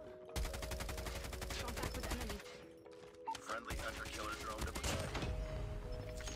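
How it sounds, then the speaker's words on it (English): Rapid automatic gunfire in the Call of Duty: Mobile game, Kilo loadout, sustained bursts with a short gap midway, loud and dense, with no talking over it. "I'm getting shot at through walls."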